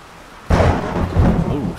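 A sudden loud thunderclap from lightning in the survival game 7 Days To Die, cracking in abruptly after a quiet moment and then rolling on as a heavy rumble with rain-like hiss.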